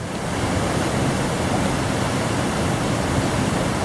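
The Pai João waterfall at Córrego da Luz roars as a loud, steady, broadband rush of falling water with no pauses and no voices.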